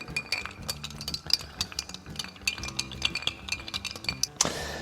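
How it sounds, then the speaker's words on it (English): A large rock of ice is stirred in a glass for an Old Fashioned cocktail, giving steady, close clinking and tinkling against the glass for several seconds, ending with a brighter rattling clatter, with no voices. "Add a large rock of ice and then give it a quick stir."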